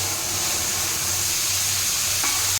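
Black cumin seeds sizzle in hot oil in a wok, a steady close hiss with faint low crackle, lasting the whole short moment and cut off abruptly at the end.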